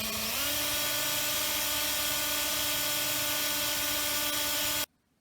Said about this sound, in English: I'm going to use this polisher to polish this top.